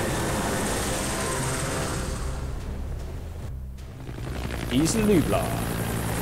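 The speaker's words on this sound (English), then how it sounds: "Well, here comes the chopper." Helicopter in Jurassic Park: The Game arriving over Isla Nublar, a steady rotor and engine drone that fills the scene while a voice speaks over it.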